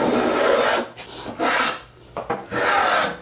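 A Stanley 78 hand plane shaves a small rabbet in wood, giving loud, close rasping strokes, about four long passes with brief breaks between them.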